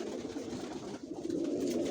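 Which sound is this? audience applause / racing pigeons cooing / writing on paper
racing pigeons cooing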